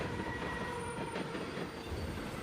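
A high-speed train in the video game Beyond: Two Souls rushes past as a continuous rumbling, rattling roar, with faint wheel squeal over it.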